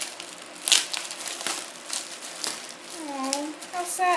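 A plastic bag crinkles around a Boyds nursery bear during a box opening, with several sharp crackling bursts and rustles close by, while a person talks over it.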